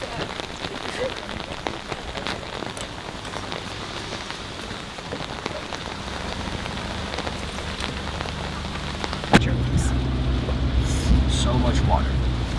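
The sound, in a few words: rain falling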